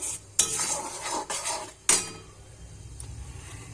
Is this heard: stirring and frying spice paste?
yes